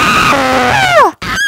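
A loud, close scream fills the moment, harmonics rising and sliding down into a squeal before cutting briefly to silence, then a short strained cry resumes.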